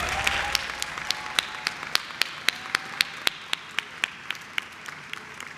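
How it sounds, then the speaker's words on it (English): Sparse clapping at an awards ceremony: a few close individual hands beat a steady rhythm over a thin background of wider applause that fades out. "You may applaud."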